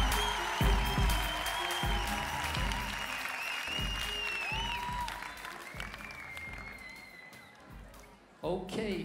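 A crowd cheers and applauds at a 3vs3 crew dance battle final in France, with sustained loud clapping and shouts under an MC's amplified voice and music-like tones, ending with a sharp burst near the end.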